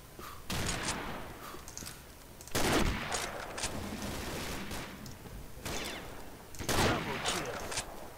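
Gunfire from the video game Combat Arms comes in several bursts of rapid shots, loud and close, in a busy game mix.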